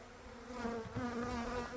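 A honeybee swarm settling onto a cloth after being shaken from its cluster, giving a steady, dense buzz of many bees that hums on evenly at moderate volume with no voices.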